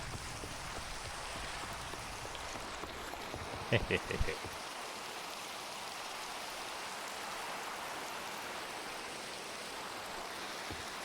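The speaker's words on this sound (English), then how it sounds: "Oh, it's a thunderstorm." Steady thunderstorm rain in the video game Reclamation, a dense continuous hiss of falling rain lasting throughout, with a brief burst of quiet giggling partway through.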